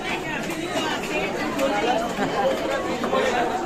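A dense crowd murmurs and chatters at a Mumbai Ganpati darshan, a continuous wash of many overlapping voices close around, steady throughout.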